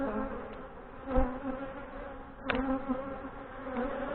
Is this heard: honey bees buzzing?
yes